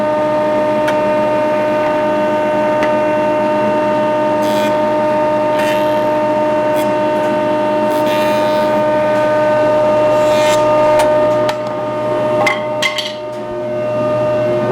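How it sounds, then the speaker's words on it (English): A Powermatic 54A 6-inch jointer hums loudly and steadily as a board is fed across its cutterhead, a constant tonal motor drone with faint knocks and handling sounds near the end. "I'm going to go this direction to make my cut"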